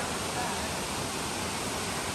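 A distant waterfall gives a steady, even rush of falling water on a trail through cliffs, faint and unbroken for the whole stretch.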